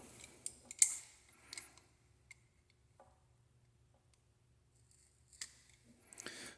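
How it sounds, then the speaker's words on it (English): Scissors cutting through the insulation on a task or flood light's wire, a handful of faint, sparse snips and clicks separated by long quiet gaps. "I'm not even sure if my scissors are really doing the trick or not here"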